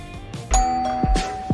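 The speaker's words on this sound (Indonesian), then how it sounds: "Waktu bel pintu berbunyi" Doorbell rings once, a bright ding-dong chime with a sustained tone, close and clear with no voices.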